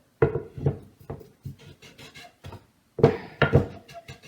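A wooden pole is pushed and twisted into a freshly drilled hole, giving a string of close, dry wooden knocks and scraping rubs in two uneven bursts.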